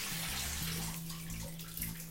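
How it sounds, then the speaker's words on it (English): Water sprays steadily from a 3D printed vortex shower head in a home shower, a continuous close hiss and splash with a low steady hum underneath, running alone without voices. "There you have it, a 3D printed shower head."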